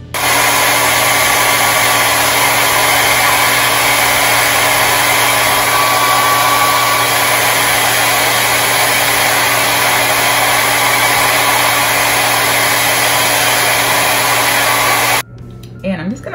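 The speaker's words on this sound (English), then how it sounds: "We're gonna take our blow dryer on a cool setting for 30 seconds to a minute." A blow dryer on a cool setting, aimed at a wig, roars with a loud, steady airy whoosh and faint motor whine for about fifteen seconds before cutting off abruptly.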